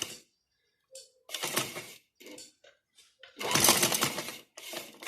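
A sewing machine stitches fabric for a girls' frock in short, close bursts of rapid whirring, separated by brief pauses and a few small clicks.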